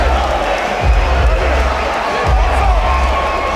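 A large arena crowd at a Power Slap event cheering and roaring, a loud sustained wash of voices with swells of noise, while a commentator talks over it.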